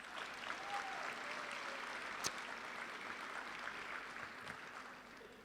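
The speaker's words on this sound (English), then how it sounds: "please give a big round of applause to Shelby" Audience at a graduation celebration applauding, a faint, steady patter of clapping from a modest crowd with one sharp louder clap partway through, tapering off toward the end.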